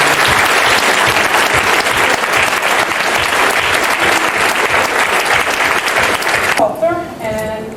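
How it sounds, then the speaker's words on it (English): Loud, dense round of applause from a crowd at an anniversary gathering, sustained and close, fading near the end as a voice begins speaking. "I think we need a great round of applause because they've been great for us."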